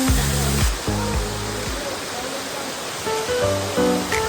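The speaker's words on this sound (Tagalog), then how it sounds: "yan ang kabuuan view ng falls na rito" Nalalata Falls in Camarines Sur, a broad rushing wash of falling water, loud and steady, with bursts of music playing over it at the start and end.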